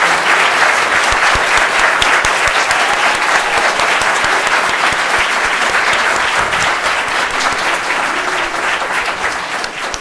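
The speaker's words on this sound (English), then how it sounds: "let's give the chairman a big round of applause" An audience at a Clayton County employee pinning ceremony gives the county chairman a loud, sustained round of applause, dense clapping that fills the room and tapers slightly at the end.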